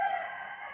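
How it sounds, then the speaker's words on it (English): A neighbor's rooster crows in one sustained, fairly faint burst that seems to come from some distance outdoors. "That's our neighbor's rooster. It's sometimes a little bit loud."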